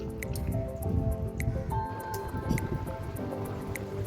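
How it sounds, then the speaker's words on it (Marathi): Tamarind water splashes and gurgles into a pan of fried masala for katachi amti, a wet pouring with squishy, dripping texture under steady background music. "आता मी याच्यामध्ये घालून घेतो चिंचेचं पाणी।"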